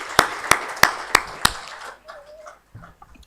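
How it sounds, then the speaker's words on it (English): A few people clap at a youth empowerment forum: five sharp, evenly spaced claps close by, then the clapping stops and faint sounds and a brief voice follow. "let's give another round of applause to Santosh."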